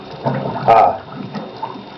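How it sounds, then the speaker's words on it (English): Water gurgles and rushes briefly inside a blocked toilet bowl as a toilet unblocker flushes hot water through, with a louder surge midway and softer trickling around it, close by. "it's putting hot water down through the toilet"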